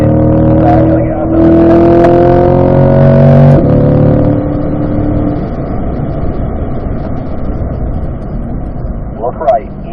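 Race car on a track session, engine roaring loud and close with a steady harmonic drone that rises then fades into road and wind rumble, with a brief chirp near the end.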